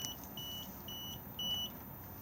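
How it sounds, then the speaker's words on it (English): A caravan fridge control panel in a Swift Conqueror 480 beeps because it is not connected to power. Several short, thin electronic beeps repeat in an even rhythm over a low steady background hum. "If I press it at the moment, it is going to beep at us because we're not connected up."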